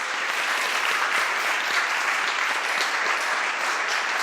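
A loud, sustained round of applause from an audience thanking a speaker at a corporate academy talk, dense even clapping without pause for the whole stretch.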